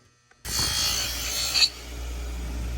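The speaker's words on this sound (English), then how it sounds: "We're going to take a dab of some Mother's aluminum polish. We're going to rub it on. And we're going to start polishing." Anodized aluminum trim from a K5 Blazer is buffed with Mother's aluminum polish, a steady close rubbing rasp that starts abruptly and runs about a second before easing off, with a low background hum and no talk.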